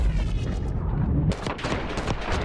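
C9 submachine gun fire in Black Ops 6, a rapid, loud burst of automatic shots in quick succession that carries on for about two seconds after a dense rumble of game noise.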